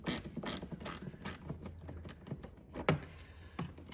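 A ratchet fitted with a 10mm socket loosens the negative battery terminal on a Porsche Boxster 986, producing a quiet, rapid series of clicking pawl strokes close by, with no talk.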